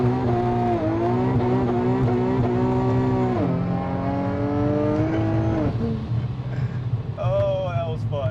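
A 700 hp automatic Infiniti G37 sedan accelerates hard with traction control off, its engine climbing loudly through several upshifts in a rising, stepped howl, with a short squeal near the end.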